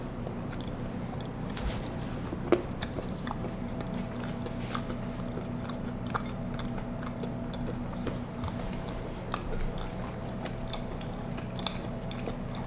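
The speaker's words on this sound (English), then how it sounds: "This is naturally the part where you have to like try the cookie dough." Someone bites and chews brown butter cookie dough close by, producing soft irregular crunches and mouth sounds over a faint steady background hum.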